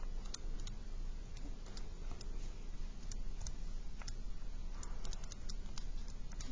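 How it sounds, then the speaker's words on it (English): Keys tapped on a calculator while entering numbers, a faint series of quick plastic clicks over a quiet indoor background. "I just go type that in my calculator."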